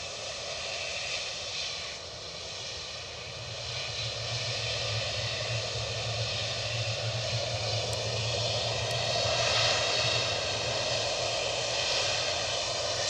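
A United Boeing 757 airliner rolling on the runway at Edinburgh Airport, a steady distant engine roar with a low hum that swells slightly over time, no voices.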